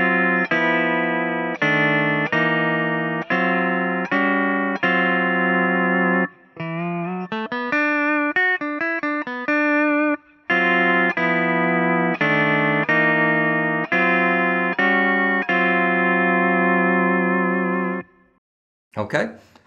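A pedal steel guitar plays a blues lick with clean sustained notes, a bright repeated phrase, then a sliding, bending passage in the middle and a return to the opening phrase, ending with a short pause.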